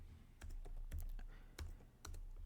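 Numbers being typed on a computer keyboard: a steady run of close, crisp key clicks with irregular spacing, heard alone without any talk.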